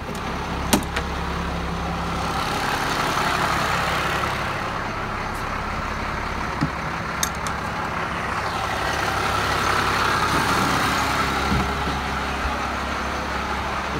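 A 1995 International 4700 dump truck with a DT466 diesel engine runs at a steady idle, a constant low rumble with a few small clicks and knocks over it.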